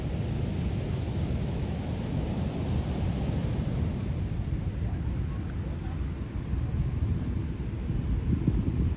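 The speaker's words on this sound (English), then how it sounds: "Rough waves today." Rough ocean waves breaking at Asparagus Beach in Amagansett make a steady low rumbling surf, swelling slightly toward the end, with wind buffeting and faint voices under it.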